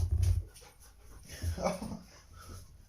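A dog yelps and whimpers nearby in a short burst, followed by lower growls and panting, with people talking over the sounds.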